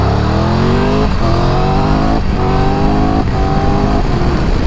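A 2022 Triumph Tiger 1200 GT Pro motorcycle at full throttle, its engine roaring loud and close, rising in pitch through each gear, with three quick upshifts breaking the steady climb.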